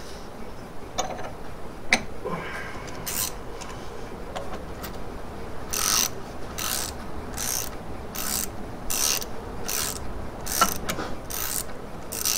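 Spanners work a half UNF tie rod end bolt, giving a series of rapid ratcheting bursts at a steady rhythm with metallic clicks and taps in between, close by with no talking.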